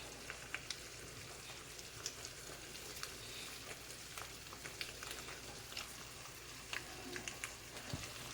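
Shrimp stirred into jerk shrimp pasta in a pan, under a constant soft sizzle and crackle of frying with faint scattered pops and light stirring scrapes, no voices.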